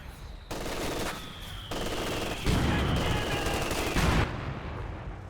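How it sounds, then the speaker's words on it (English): Mortars and other weapons fire in a Company of Heroes 2 online 2v2 match as dense overlapping bursts of gunfire and booms, with loud continuous rattling that shifts in intensity and stops abruptly near the end. "Just mortars popping off in the center now."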